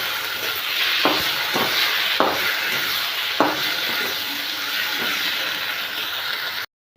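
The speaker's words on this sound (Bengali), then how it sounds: "এটা ভালো করে মিশিয়ে ভেজে নিচ্ছি।" Ginger garlic paste fries in hot oil in a pan, a steady loud sizzling hiss that runs unbroken with a few soft stirring knocks, then cuts off abruptly near the end.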